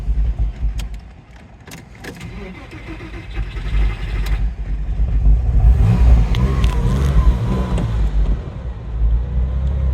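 Porsche 996 911 engine starting roughly, with a cranking stumble before catching into a rising, uneven rumble that settles into a low idle, close and loud.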